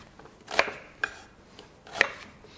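Two onions cut roughly with a knife, giving three sharp blade strikes on a board spread unevenly across the moment, close and with nothing else around them.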